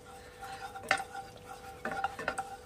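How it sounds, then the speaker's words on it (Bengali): Ghee in a hot kadai, heated before frying semolina, crackles faintly under a few metal spoon scrapes and clinks against the pan, quiet and close. "এই যে ঘিটা গলে যাক।"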